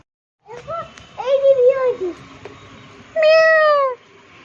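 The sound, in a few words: cat meowing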